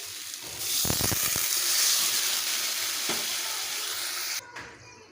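Chopped vegetables that have been sautéed until the oil separates burst into a loud, steady sizzle as water is poured into the hot pan, with a few quick clatters at the start and the hiss dropping abruptly near the end.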